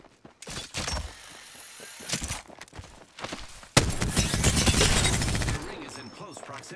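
Gunfire in a video game, with bursts of rapid shots and scattered single reports alongside footsteps and game sounds, under talking.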